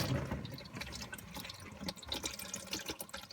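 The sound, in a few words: transmission fluid draining from Tremec T56 into pan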